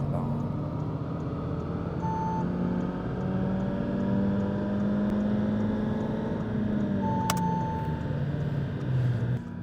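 A stage 1 tuned car runs on a dynamometer bench at a tuning workshop, its engine holding a steady droning note with slowly shifting pitch, loud and close, with a brief electronic beep near the end.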